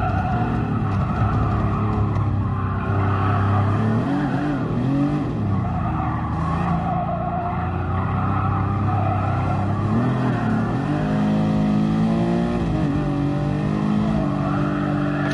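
A Ferrari Enzo races in Gran Turismo Sport: its engine note stays loud and continuous, climbing and falling in pitch as it revs through the gears, with no voices over it.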